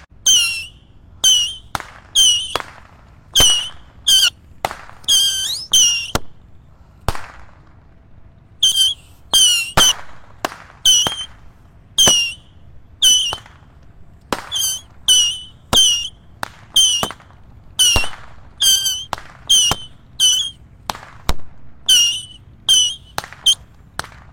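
Firecrackers and Ramadan fireworks go off in rapid irregular bursts over about twenty-four seconds, each a sharp crack followed by a brief squealing hiss, loud and close, with short pauses between groups.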